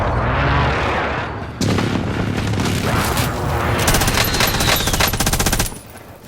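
Loud, dense automatic gunfire and booming shots in a Call of Duty Warzone battle royale match, with sustained rapid bursts that continue steadily before cutting off near the end.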